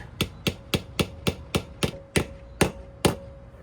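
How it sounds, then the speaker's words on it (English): Ten firm dead blow hammer strikes drive a rear axle seal into a Ram 2500 axle, evenly spaced sharp thuds at a steady rhythm, loud and close with no talking. "The nice part about the dead blow is you're not going to mar the seal edge."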